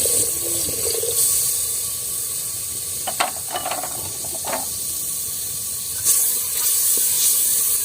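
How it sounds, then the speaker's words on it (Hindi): Water splashes and pours steadily into a cooking pot of turnip and pea curry, a continuous hissy rush with a few clinks partway through. "इसके बाद जो है ना हम इसमें पानी डालेंगे।"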